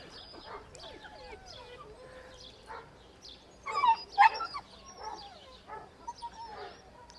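Two-month-old Braque puppies chasing a toy giraffe, giving scattered high yips, whimpers and a short burst of small barks midway, fairly close and light.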